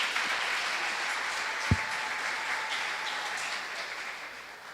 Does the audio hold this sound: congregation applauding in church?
yes